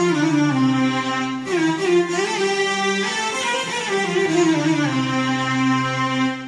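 An organ keyboard plays a run of sustained notes in an Arabic maqam, one tone gliding into the next with no break, rich in harmonics and loud and close, with no voices.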